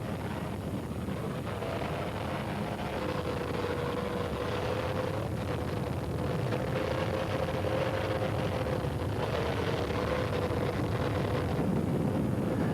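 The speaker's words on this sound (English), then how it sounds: "he crept up on the bigger boat, his rasping petrol engines in stark contrast to the whispering diesels" Racing powerboat petrol engines in the 1993 Venice to Monte Carlo offshore race, a steady, continuous rasping drone with wind rush, held throughout at moderate level with no talk.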